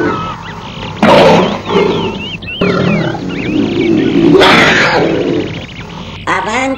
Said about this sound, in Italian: Avanti la signora Tigre